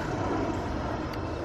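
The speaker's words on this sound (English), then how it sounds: "that we have a plane taking off right there." Airplane taking off near the Dayton, Ohio area at an outdoor park, a steady broadband engine roar that fills the whole clip, loud and continuous with no talking.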